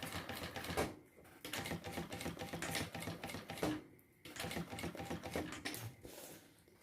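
Domestic sewing machine stitching a seam on a unisex fabric waist pouch, a rapid mechanical chatter running in three close bursts separated by brief pauses, with a short backstitch at the start.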